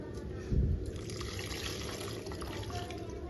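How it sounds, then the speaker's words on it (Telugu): Tamarind broth poured into a drumstick and onion curry, a brief soft splash followed by a quiet steady liquid trickle, close but faint, with no talking. "కొంచెం పోద్దాము కొద్దిగా పులుసు"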